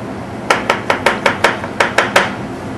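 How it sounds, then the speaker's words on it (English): Knife chopping a mushroom on a cutting board, about nine crisp, evenly spaced chops in quick succession, close and clear with no talking. "when you're chopping the mushroom"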